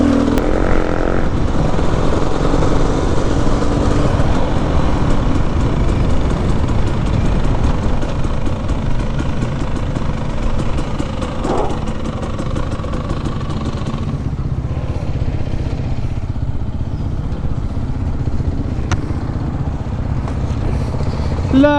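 A dual sport motorcycle engine roars loudly and continuously up close, a steady rough drone with slight shifts in pitch and wind buffeting throughout, no speech.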